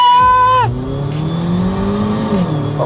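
A modified Mini Cooper S R56 and a Honda Brio with an L15A engine making 320 hp launch hard from a standstill in a street race. A loud engine rev drops into a rising acceleration roar with some tire noise, and no talk is heard.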